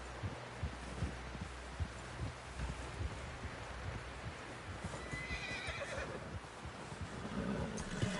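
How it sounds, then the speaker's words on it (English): A horse in the video game Red Dead Redemption 2 neighs and whinnies amid a steady clatter of hooves, with a busy, noisy background throughout. "Someone help John down off this horse"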